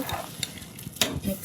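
Ground masala paste being stirred into rice in a pot for egg biryani: a few short, soft scraping strokes with a light sizzle underneath, close and fairly quiet.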